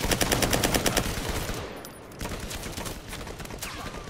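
Rapid automatic gunfire in the video game Firewall, a dense burst of close, loud shots at first, followed by a brief lull and further scattered fire.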